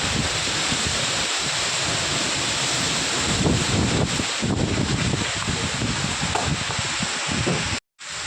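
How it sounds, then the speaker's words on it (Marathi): Strong wind roaring during a sudden rain and wind storm, a steady loud rushing noise with gusts buffeting the microphone and a brief dropout near the end. "हवा."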